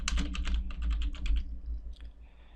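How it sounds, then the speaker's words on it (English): Rapid typing on a computer keyboard while entering a search on a Windows 10 PC, a quick run of close, crisp key clicks followed by a brief pause and a couple of final taps. "You can type in Uninstall Programs"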